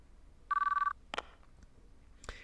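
A telephone rings once in the video game Chaos;Child, a short trilling electronic burst, followed by a couple of sharp clicks and clatters in quiet surroundings.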